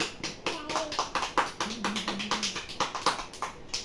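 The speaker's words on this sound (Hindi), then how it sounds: "तालियां" Rhythmic hand clapping during a children's English lesson on fruit names, steady quick claps at close range, with a brief sung or spoken tone partway through.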